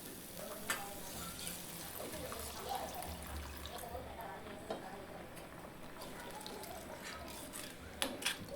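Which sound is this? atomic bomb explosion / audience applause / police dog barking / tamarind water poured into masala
tamarind water poured into masala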